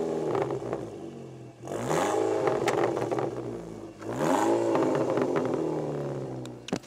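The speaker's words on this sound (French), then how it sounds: "Est-ce qu'on n'écouterait pas le son moteur?" A Volkswagen Scirocco R engine of 410 hp revs hard twice in a row, each surge climbing to a loud roar before dropping back to a rumbling idle.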